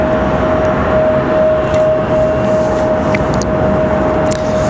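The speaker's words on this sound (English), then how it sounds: "There's American from Dallas." An American Airlines jet from Dallas at Raleigh-Durham International Airport makes a steady, loud, broad roar with a faint constant whine, continuous for the whole stretch without talk.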